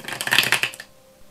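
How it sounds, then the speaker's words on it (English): Tarot cards are shuffled in a quick flurry of crisp, riffling flutters for under a second, then stop into near silence. "Getting the hang of shuffling. I've been practicing shuffling a lot."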